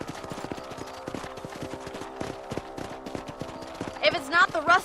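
Horses trotting in the Western video game Red Dead Redemption, a steady run of hoof clip-clops with a quick whinny near the end, under background game sounds.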